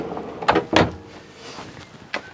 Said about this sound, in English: this is basically just a junk drawer where we put all of our odds and ends